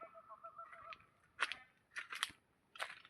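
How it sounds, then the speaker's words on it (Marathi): Birds calling outdoors in a cashew orchard garden, where an eagle is about, give sharp chirps and squawks in three short bursts against a quiet rural background. "हे बघा पक्ष्यांचे आवाज बघा कसे येतात."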